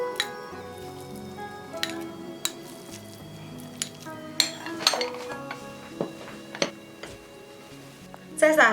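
Cooked chicken-leg rice being scooped out of a pot, heard as repeated light clinks and scrapes of a spoon against the pot and dishes over a soft background hum, with a voice talking throughout.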